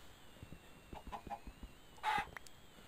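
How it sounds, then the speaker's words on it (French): Chickens cluck in a video game world, a few faint soft clucks that end in a brief louder squawk over a quiet background hum. "Ah, poulet, poulet, poulet, poulet."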